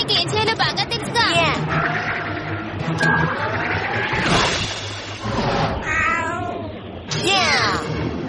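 A cartoon cat from the animated series Kid vs Kat meows several times in short, bright, rising and falling calls. Loud cartoon voices and music run over and between them.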